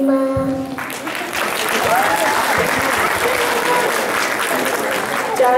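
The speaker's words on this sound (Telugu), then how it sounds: "మరొకసారి చప్పట్లు కొట్టచ్చు అతను." An audience at a Telugu singing competition breaks into sustained applause right after a song ends, dense clapping close and loud for several seconds as the last sung note fades.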